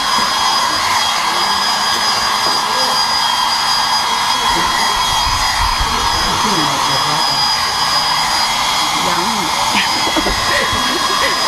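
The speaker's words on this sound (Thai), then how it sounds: "เราก็ใช้ไดเป่าผมเป่าก็ให้สีแห้ง" A hair dryer blows steadily at close range to dry paint on a water hyacinth decoupage craft piece, a constant loud whoosh with someone speaking over it.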